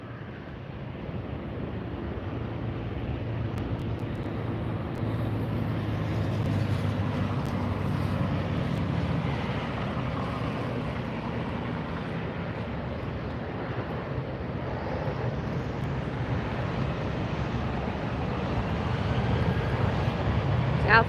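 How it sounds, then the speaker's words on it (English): An Air France airliner taxiing past at LAX airport, heard as a sustained low jet engine rumble with wind noise buffeting the microphone, swelling slightly as the aircraft moves by and faint voices in the background. "let's get a good look at Air France as it taxis past us"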